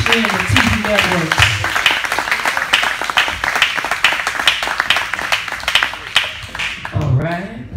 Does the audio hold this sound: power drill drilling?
no